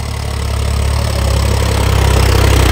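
A John Deere 5310 tractor engine, upgraded to 25 hp, runs loud and steady with a low throbbing idle-like drone, its revs sagging slightly and then holding. No voices are heard.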